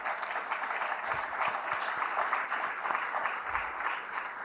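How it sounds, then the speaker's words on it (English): Steady audience applause in a conference hall, a dense continuous wash of many hands clapping at moderate distance. "please give them a round of applause as well"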